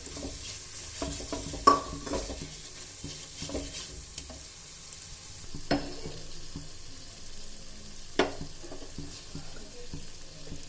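Mushroom chilli gravy simmering in a pan on low gas, a soft steady sizzle with gentle stirring scrapes and occasional spoon knocks against the pan.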